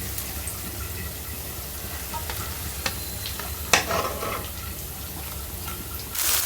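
Two shrimp and two pieces of rohu fish fry in a pan, a steady oily sizzle broken by scattered clicks and scrapes of stirring, with one sharper knock midway and a brief surge of hiss at the end.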